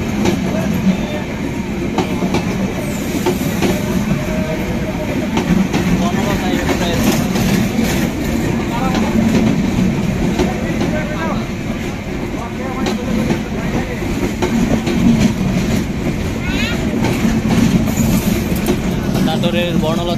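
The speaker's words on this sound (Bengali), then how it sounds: "ক্রসিং হয়ে গেল এখন ট্রেনটি লালমনি এক্সপ্রেস বঙ্গবন্ধু সেতুর উদ্দেশ্যে রওনা হয়ে যাবে" Lalmoni Express passenger train running toward Bangabandhu Bridge, a loud continuous rumble and rattling clatter of wheels heard from inside a crowded carriage, with people talking over it throughout.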